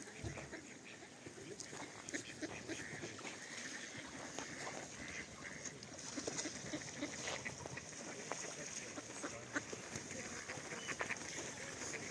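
Ducks quack and honk repeatedly in a busy group at moderate distance in Skhidnytsia, Ukraine, with people talking nearby under the calls.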